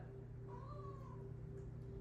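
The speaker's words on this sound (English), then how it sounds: "Half of this video is my cat meowing." A cat gives one clear, drawn-out meow, fairly quiet against a constant low indoor hum.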